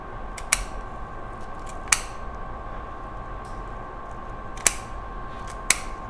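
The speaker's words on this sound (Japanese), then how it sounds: "ハサミで切るタイプですね。" Kitchen scissors snipping through the bones of a lamb rack, four sharp isolated clicks spaced a second or more apart over a quiet room hum.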